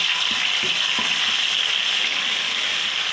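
Garlic and ginger frying in hot oil in a pan, after onions were browned, for chana pulao: a steady, close, crackling sizzle with a few stirring clinks early on, no talking.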